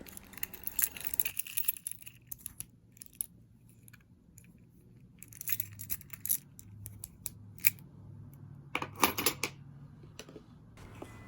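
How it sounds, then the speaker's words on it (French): A key ring with a small flashlight and small scissors is handled, giving scattered metallic jangles and snips, close and fairly quiet, in irregular bursts. "Ensuite, j'ai des clés avec une petite lampe casse et des petits ciseaux."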